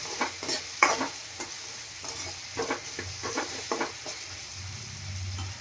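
Dal khichdi gravy with onion cooking in a pan gives a low, steady simmering sizzle. Intermittent stirring scrapes run through it, near and moderately loud, with no voices.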